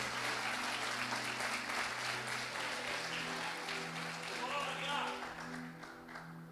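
A church congregation applauds in praise, a broad steady wash of clapping under a sustained musical drone, fairly faint and distant, with voices mixed in.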